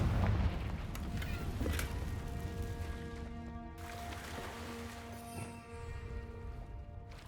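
A Confringo spell blasts in Hogwarts Legacy, a heavy booming explosion followed by rumbling debris and ringing, tonal magical effects that sustain and fade over several seconds, with game score droning underneath.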